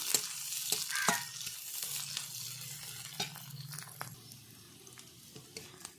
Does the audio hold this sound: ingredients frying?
yes